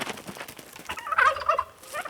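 A rooster gives a short burst of gobbling calls, fairly near, in a noisy outdoor farm setting.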